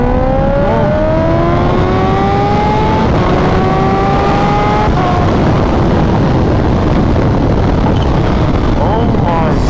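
A Kawasaki Ninja H2 motorcycle fitted with a Vandemon exhaust accelerates hard and loud, its engine pitch climbing through several rising gear pulls with brief drops at each shift, then settling into a roaring, rough run.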